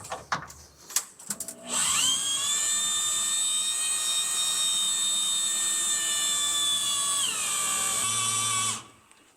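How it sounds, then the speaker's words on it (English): A DeWalt DW160V drill primes the oil pump on a fresh Toyota NASCAR truck engine, giving a loud, sustained high whine that holds steady for about seven seconds, shifts pitch near the end, then stops. "We're going to use our DeWalt DW160V drill, and we're going to prime the oil pump down here on the right side of the engine."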